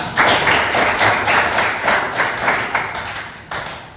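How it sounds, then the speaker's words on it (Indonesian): A classroom of students claps hands in an Indonesian teaching session, a steady, dense patter of many nearby hands with slight rhythmic swells, lasting throughout. "Ya betul sekali, tepuk tangan."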